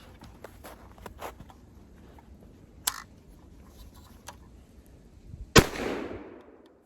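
A single loud, sharp shot from an AK rifle fitted with a CMC trigger cracks out close by and rings off in a lingering decay, following a fainter, smaller report a few seconds earlier.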